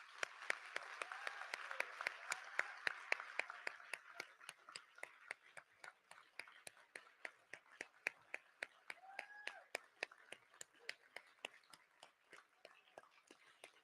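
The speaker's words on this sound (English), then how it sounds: "So I need to applaud them and appreciate them." Scattered applause from an audience at a county community meeting about a mine, sharp individual claps ringing out fairly faintly in a large room, with a soft murmur of voices beneath.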